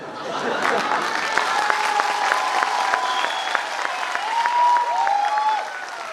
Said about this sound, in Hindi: जरा दिल से ताली बजाओ